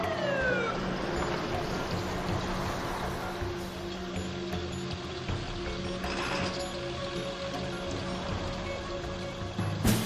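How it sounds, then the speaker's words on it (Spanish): An ambulance siren wails through a night scene in a Spanish-language telenovela, holding steady at moderate loudness over a broad background wash, with no talk over it. "Ahí está la ambulancia."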